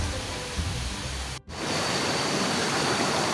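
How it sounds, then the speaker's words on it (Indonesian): A fast, strong river stream on the way to Curug Cikoneng waterfall near Puraseda, Bogor, rushing steadily as loud broadband water noise throughout, with a brief dip partway. "Alirannya sungai ini ya lumayan cukup deras."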